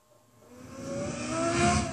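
A 2012 Lexus LFA with the Nurburgring package in the Gran Turismo 6 racing game accelerates, its engine note rising from quiet into a loud, climbing rev over a couple of seconds.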